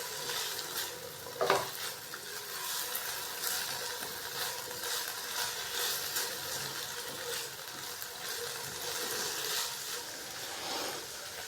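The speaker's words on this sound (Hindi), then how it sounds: "1 से 2 मिनट मीडियम फ्लेम पे हम इन दोनों सब्जियों को हल्का सा कुक कर लेंगे।" Sliced tomato and capsicum sizzle and fry in a pan over a medium flame, a steady soft crackle with occasional stirring scrapes and no talk.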